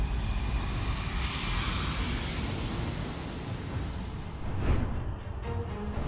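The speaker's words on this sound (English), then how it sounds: "It looks like some old MD-90 making a horrendous approach on runway 16-0," An old MD-90 airliner on approach to runway 16 at Sydney International Airport, a steady broad engine roar with rushing air that stays loud throughout and swells briefly near the end, with no talking.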